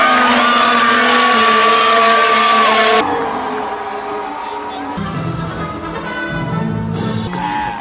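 Loud race cars scream past at the Melbourne Grand Prix circuit, high engine whines sustained for several seconds before cutting off abruptly, followed by further engine drone and changing track noise.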